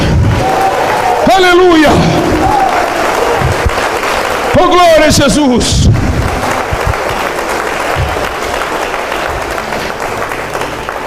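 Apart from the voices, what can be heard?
church congregation applauding and cheering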